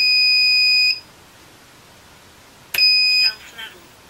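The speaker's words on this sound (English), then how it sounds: "So if I turn my beeper on" Two shrill electronic beeps from a standard 5V piezo buzzer on an FPV racing quadcopter, each a steady high-pitched tone lasting about a second, separated by a short silence.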